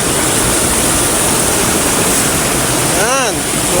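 Loud, constant rush of flowing water filling the whole clip with broadband noise, with a brief higher chirping sound near the end.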